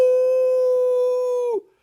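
A human voice imitates a Wolfman howl, one sustained, steady, loud tone held for about a second and a half before breaking off abruptly into silence.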